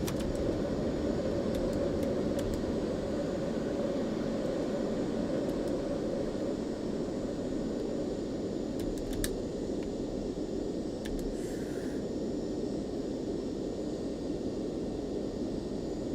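A Cessna C525 Citation CJ jet rolls into takeoff and climbs out in a flight simulator, with a continuous even engine roar and broadband rush holding steady throughout, interrupted only by faint brief cockpit clicks.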